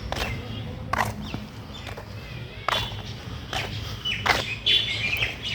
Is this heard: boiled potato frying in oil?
no